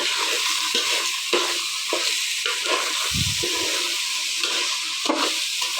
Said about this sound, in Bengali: দিয়ে এবার ভালো করে আমি একটু মিশিয়ে নেব।